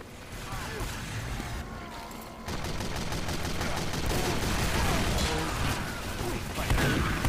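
Team Fortress 2 revolver gunfire crackles in repeated shots over dense, loud in-game combat noise, with a voice talking throughout.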